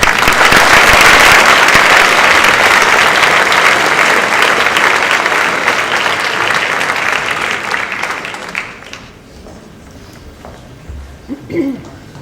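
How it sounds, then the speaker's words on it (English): An audience applauds students at a high school academic excellence awards ceremony, a loud, dense wash of clapping that fills the hall for about nine seconds before fading to a quiet room with a few scattered sounds. "Again, let's applaud all of their coming."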